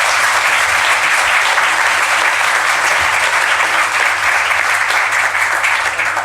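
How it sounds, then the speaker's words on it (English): A conference audience at a genomics summit held in Parliament gives a panel sustained, dense applause, steady and fairly loud throughout with no talking over it. "Give them a big round of applause."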